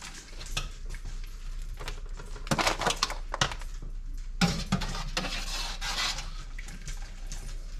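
Crab boil with Dungeness crab scooped from a pot with a dipper, a close series of irregular clinks, scrapes and splashy scoops, some sharp knocks in the middle and a wet stirring texture between.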